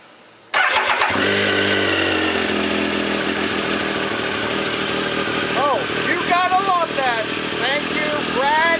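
A Triumph Daytona 955i motorcycle engine cranks and catches on a cold start, then settles into a loud, steady fast idle close by, with a voice speaking briefly over the running engine.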